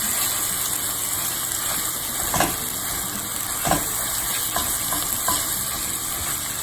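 Ground chicken with cumin cooking in a pan, a dense steady sizzle with occasional spatula scrapes and taps.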